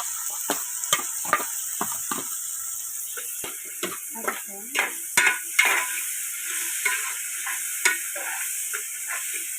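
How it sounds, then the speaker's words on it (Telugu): Tomatoes and green chillies stirred and frying in a pan for a fish curry, with a steady sizzle and repeated scraping spoon strokes close by, no talk. "టమాటాలు పచ్చిమిర్చి అయితే వేసుకుంటున్నాను"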